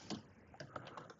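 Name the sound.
typing on a computer keyboard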